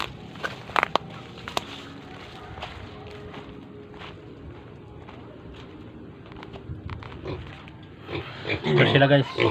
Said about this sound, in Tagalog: papakita natin ang ating tuturukan ng mga baboy